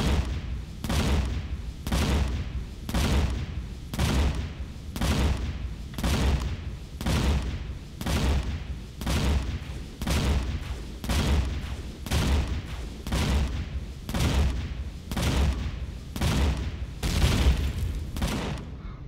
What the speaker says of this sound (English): Oh, now it's shooting at my gun.